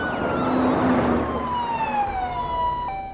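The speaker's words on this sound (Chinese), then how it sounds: "几个人觉得警车连夜出动" Police car siren wailing at night, loud and close, with sweeping rising and falling tones over a vehicle's rumble.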